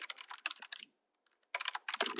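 Quick clicking keystrokes on a computer keyboard in two close bursts separated by a short pause, crisp and fairly quiet with no voices.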